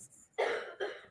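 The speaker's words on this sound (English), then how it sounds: "You guys hear her coughing?" A woman coughs twice in quick succession, faint and somewhat distant in a quiet room.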